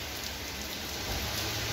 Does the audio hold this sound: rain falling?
yes